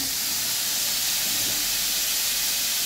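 Dried red chillies frying in a hot pan with loita (Bombay duck) fish give a loud, steady, close sizzling hiss that holds without a break throughout.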